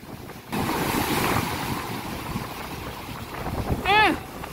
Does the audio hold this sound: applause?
no